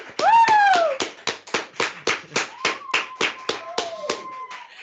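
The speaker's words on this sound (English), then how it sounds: "Applause." A small group claps steadily at a Makeathon closing ceremony celebrating the first-place winner, with a brief voiced cheer rising over the first second before the claps continue alone in an even, fairly close rhythm.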